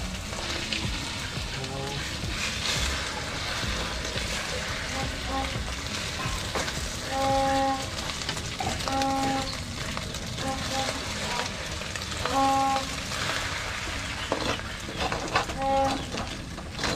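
Corned beef fries in a pan, with a steady sizzle that runs throughout. Birds and farm animals call faintly in the background, and brief voices come in here and there.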